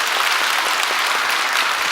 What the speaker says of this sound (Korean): 샬롬 찬양들 크게 박수 한번 하겠습니다